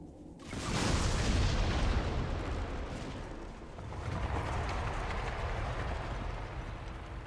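An explosion in the video game Dragon Age Inquisition bursts loudly after a brief quiet moment, then a long, heavy rumble of debris and roar trails off and carries on through the rest.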